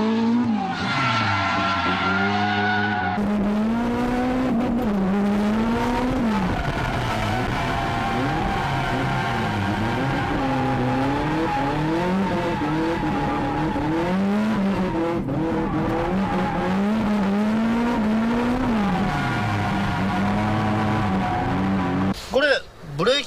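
A Nissan Silvia S13/180SX with loose, rough suspension setup drifts hard, its engine revving and falling in long wavering sweeps while tires squeal continuously, loud and close for the whole run.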